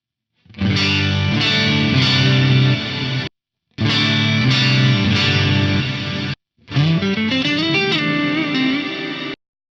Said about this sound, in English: this is actually a reverse gated reverb